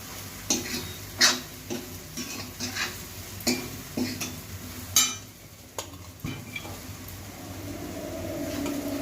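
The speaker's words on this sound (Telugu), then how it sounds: "ఫైనల్గా చక్కగా ఉడికిన తర్వాత ఈ బొరుగులు పోసి ఇలా తిప్పుకుంటూ ఉండాలండి" Puffed rice (borugulu) being stirred in a pan for pulihora: a spoon scrapes and clinks against the metal in irregular strokes over a faint sizzle, growing quieter and more continuous toward the end.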